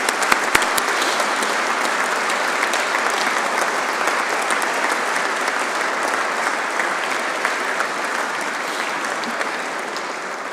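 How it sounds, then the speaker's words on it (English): An audience gives a sustained round of applause for an absent award winner at a Royal Engineers excellence awards ceremony, with dense steady clapping and a few sharp claps standing out at the start. "let's give Captain Stephen Stewart a round of applause all the same"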